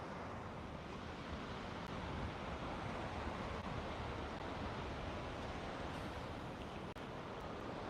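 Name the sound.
ocean breeze and waves at the shore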